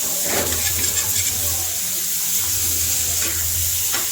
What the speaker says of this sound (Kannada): ಇದನ್ನು ಚೆನ್ನಾಗಿ ಒಂದು 2 ನಿಮಿಷ ಮಿಕ್ಸ್ ಮಾಡಿಕೊಂಡು ಸ್ವಲ್ಪನೇ ಫ್ರೈ ಆಗೋ ರೀತಿಯಲ್ಲಿ ಇದನ್ನು ಕುಕ್ ಮಾಡ್ಕೋಬೇಕು